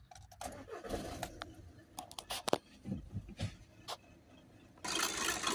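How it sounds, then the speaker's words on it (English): Skoda Octavia 2.0 TDI diesel starting after particle filter cleaning fluid was added, with several short bursts and clunks, a cranking surge near the middle and the engine catching and settling into a steady run at the end. "we're gonna start the car up"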